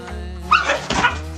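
A dog on doorbell camera footage gives a short, close whimpering yelp, a single strained cry over a low steady hum, lasting about a second.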